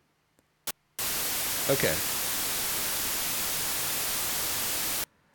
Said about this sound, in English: And there's our random white noise.